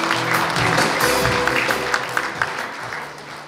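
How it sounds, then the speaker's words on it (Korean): Applause from an audience at the opening of the 2022 Goesan World Organic Industry Expo results ceremony, a dense, steady patter of clapping filling the hall for about three seconds before tapering off slightly. "다시 한번 큰 박수 부탁드립니다"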